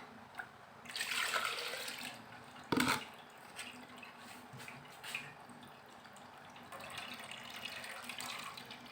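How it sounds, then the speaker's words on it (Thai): Water poured into a cooking pot while preparing a mushroom curry, a splashing, running stream that starts near and loud, then continues in softer intermittent trickles with a sharp clunk partway through. "เทน้ำใส่อีก"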